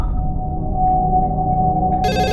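An office telephone rings steadily, a sustained electronic tone that continues on its own, with a brighter burst of ringing near the end.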